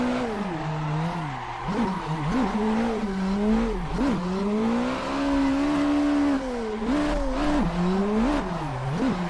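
A Subaru BRZ engine in a racing video game climbs and drops in pitch through continuous revs and gear changes, with brief tire squeals, loud and close throughout.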